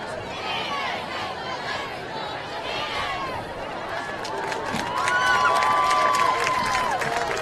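A large outdoor football stadium crowd with a big cheerleading squad at a college game at Zollner Stadium in the rain, a broad distant wash of chatter and cheering that swells louder toward the end, with faint voices in the mix.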